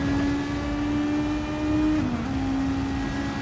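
A Porsche race car in a racing video game at Catalunya, its engine a steady sustained drone with a brief dip in pitch partway through, loud and continuous without speech.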